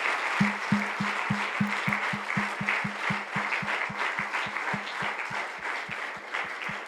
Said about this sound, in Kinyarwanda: Amashyi menshi ku Mwami Yesu Kristo.